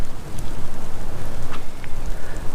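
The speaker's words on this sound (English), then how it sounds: "And of course it's raining on me right now." Steady rain pattering directly on a waterproof GoPro camera outdoors on a disc golf course, a dense close hiss with a few sharper drop taps, loud and continuous with no voices.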